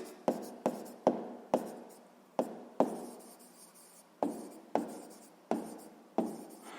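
Pen strokes on paper while working a sixth-grade math exercise: about a dozen sharp, close scratching taps in an uneven rhythm, each fading quickly, with no voices.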